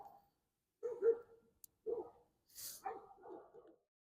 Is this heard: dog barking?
yes